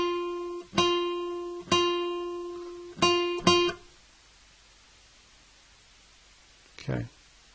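Guitar plays the second part of the Jingle Bells chorus: three evenly spaced plucked notes followed by two quick notes close together, each ringing with clear harmonics and decaying, then a faint brief sound near the end.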